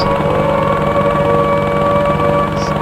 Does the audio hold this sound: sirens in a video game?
yes